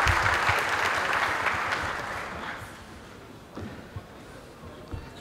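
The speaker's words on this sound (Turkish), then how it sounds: "Alkışlarınızla." Applause from an audience at a Turkish award ceremony as a plaque presenter is invited to the podium, loud and dense at first, then thinning and fading to scattered claps.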